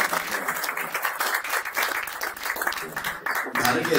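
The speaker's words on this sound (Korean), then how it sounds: "박수 한번 부탁드립니다" An audience at an indoor gathering with a shared meal applauds, a fairly close, lively burst of clapping with a voice sounding faintly beneath it.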